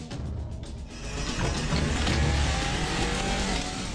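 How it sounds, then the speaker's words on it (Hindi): A car engine revs up and pulls away, the roar building and holding loud with a touch of tire noise, in a Hindi-dubbed action movie scene. "चलो गाड़ी निकालो।"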